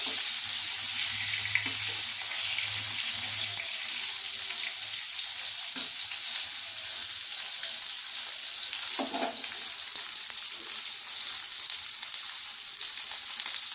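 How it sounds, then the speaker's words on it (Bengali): Steady, loud sizzling of eggplant frying in hot oil, continuous throughout, with a few faint clinks and a low hum early on. "বেগুনটাও এর মধ্যে অল্প ভাজা হয়ে যাবে"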